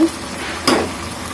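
Ginger and garlic paste fries in a pan with a steady close sizzle, marked by a single sharper scrape of a spoon partway through.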